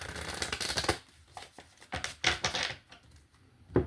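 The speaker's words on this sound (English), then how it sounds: "One more shuffle." Tarot cards are shuffled in quick papery riffles: a dense burst at the start, then scattered flicks, a second flurry in the middle and a sharp final snap near the end, close and alone.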